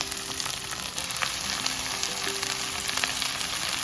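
Saag greens fry in a kadhai with a continuous close sizzle and faint scraping stirs, no voices over it.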